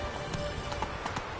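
A horse gallops in The Witcher 3 on PS4, with a quick run of soft hoofbeats over a dense, noisy game soundscape through the whole short stretch.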